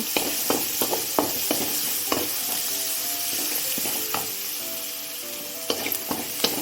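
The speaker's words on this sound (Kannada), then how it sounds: "ಹಾಗೆ ಒಂದು ಈರುಳ್ಳಿನ ಹಾಕೊಳ್ಳುವ ಹಾಕೊಂಡು ಚೆನ್ನಾಗಿ ಫ್ರೈ ಮಾಡುವ" Onion being fried in hot oil with turmeric, a steady loud sizzle broken by repeated sharp scrapes and clinks of a spoon stirring against the pan.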